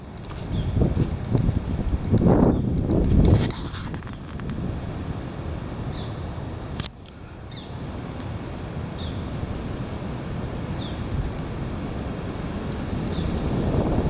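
Heavy wind blows outdoors as a continuous broadband roar with gusts buffeting the microphone, stronger at the start, with a sharp click midway and faint periodic chirps.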